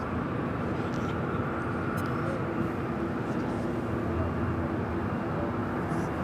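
Airliner arriving on the south side at LAX, heard as a steady broad engine roar and rush that stays loud and even throughout, with no speech.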